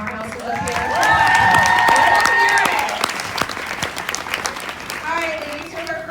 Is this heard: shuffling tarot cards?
no